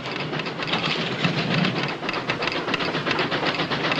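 A steam train arrives with a dense, continuous rushing roar and rhythmic chuffing and clatter, loud and close, steady throughout with no voices over it.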